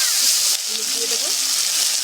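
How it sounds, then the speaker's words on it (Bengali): Spices with bay leaves, cumin, tomato, green chili, salt and turmeric frying for khichuri in a pan, a loud close sizzle with a brief stir partway through. "খিচুড়ির জন্য এবার মশলাটা কষিয়ে নেব"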